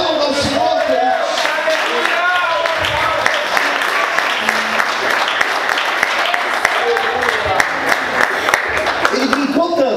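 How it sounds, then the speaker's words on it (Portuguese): A church congregation breaks into loud, sustained applause during an evening sermon, a dense wash of clapping with scattered shouts and cheers from the crowd throughout. "Aplauda ao Senhor, queridos."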